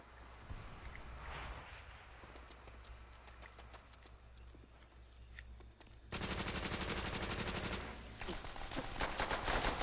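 Gunfire from a powerful weapon in Call of Duty: World at War team deathmatch, with scattered shots early, then a dense rapid automatic burst at about six seconds that continues with intermittent heavy firing.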